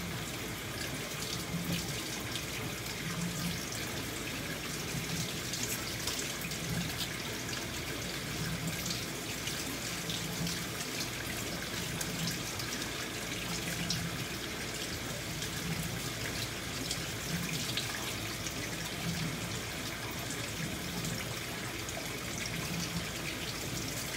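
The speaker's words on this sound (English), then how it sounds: "Then I'm going to start by getting my hands wet." Tap water runs steadily into a sink while hands are wetted, a continuous close splashing rush with no talk, holding even for the whole stretch.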